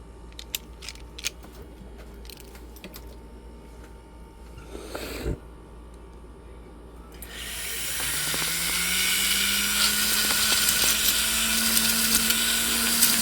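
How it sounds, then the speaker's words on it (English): A rotary tool with a silicone polishing wheel smooths the inside of a thin-shanked gold ring. A few light taps come first, then the motor spins up into a steady rising whine with a hissy grinding rush. "smooth the inside out with our silicone wheel"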